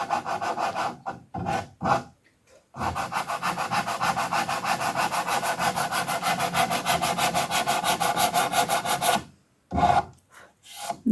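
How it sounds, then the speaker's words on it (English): Sandpaper rubbed by hand over a glued and clamped wooden cabinet repair, fast rhythmic back-and-forth rasping strokes in several bursts, close and fairly loud, with brief pauses between runs. "we just need to hit it with a bit of sandpaper"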